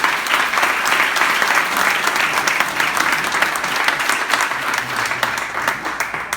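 An audience at a Moroccan delegation gathering in Toronto applauds in steady, dense clapping that runs the whole time, loud and close, with no break.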